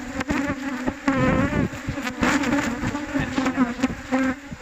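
Asian cavity-nesting honeybees buzz loudly and close at a hive box, a dense, continuous droning swarm hum with shifting pitch and occasional knocks.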